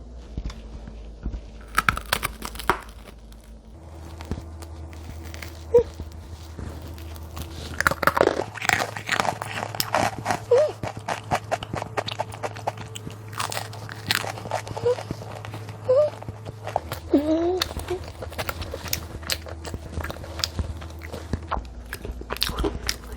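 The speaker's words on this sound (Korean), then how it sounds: "먼저 요 기본 소금빵부터 먹어볼게요." Someone bites into and chews a plain salt bread roll, giving repeated close, crisp crunching bites and chewing sounds over a long stretch, with soft handling noises between them.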